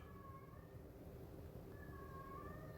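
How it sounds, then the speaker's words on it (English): A house cat yowls in two drawn-out, wavering cries, one early and one late, heard faintly over a steady low rumble of background noise. "as soon as my cat starts yelling, this happens"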